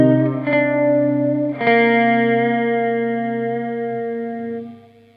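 Electric guitar run through an Empty Head Effects modulation pedal set for a doubling delay, two sustained chords ringing out with a thick, shimmering doubled tone that fades near the end, alone and up close.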